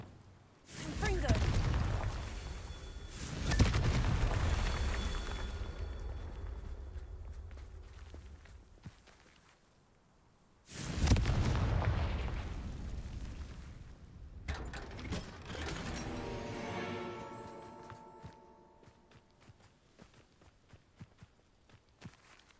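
Two heavy booming blasts from a Confringo spell in a Hogwarts game, each a loud sudden burst that rumbles and fades over several seconds, followed by scattered clattering and footsteps.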